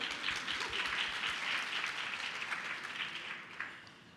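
An indoor audience at a hospital-hosted Women's Health Day claps steadily, a dense even wash of applause that fades slightly toward the end.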